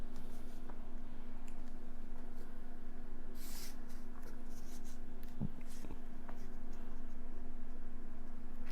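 A pen sketches a trigonometry diagram for a maths exam question, making faint scratchy strokes over a steady electrical hum with a few brief louder scrapes and no speech.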